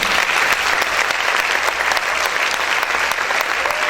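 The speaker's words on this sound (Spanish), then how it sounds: "¿Cuántos pueden aplaudir fuerte al Señor?" Loud, sustained applause from a church congregation, dense and steady throughout with no voices standing out.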